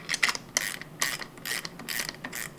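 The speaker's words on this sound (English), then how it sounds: "take your two 16mm wrenches and loosen your axle bolt" Two 16mm wrenches loosen an axle bolt on a Crazy Cart, giving close, rapid ratcheting clicks in uneven bursts with short pauses between them.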